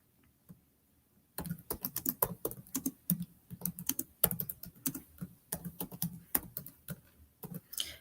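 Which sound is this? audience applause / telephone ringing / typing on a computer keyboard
typing on a computer keyboard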